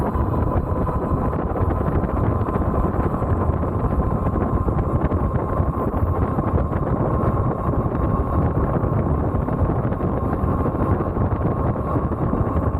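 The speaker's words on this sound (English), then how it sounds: "I'm definitely gonna have to get some kind of mic adapter because I know this wind is crazy" Heavy wind buffeting the microphone while riding an Ariel Rider Kepler V2 electric bike, a loud, steady roar that continues without a break and has a faint tonal whine running through it.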